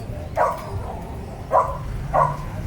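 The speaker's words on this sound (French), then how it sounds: "Il est marrant le petit chien là" A small dog barks three short, sharp times, spaced unevenly, at moderate distance over steady background noise in a small Mexican town.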